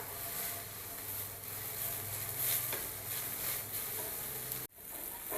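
Steady close sizzling of an uttapam frying in a little oil on a pan, a continuous crackling hiss that briefly cuts out near the end, with no talk.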